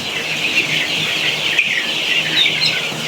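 Young Sonali chickens clucking and peeping on a poultry farm, a dense continuous chorus of many chicks, close and loud with no talking.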